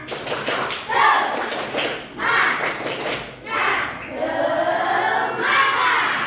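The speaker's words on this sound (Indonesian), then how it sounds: "Tepuk semangat." Indonesian classroom pupils performing a rhythmic spirit clap, with bursts of chanting children's voices and group claps rising and falling in several loud waves, close and lively.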